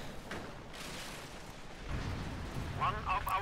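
A Teller mine in a World War II strategy game detonates under a Panzer IV, a rumbling in-game blast swelling through a steady battle din with distant gunfire crackling near the end.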